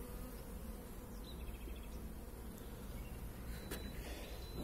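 Bees pour out of an opened beehive after the second honey super is lifted off, making a steady, dense, faint buzz with no talking.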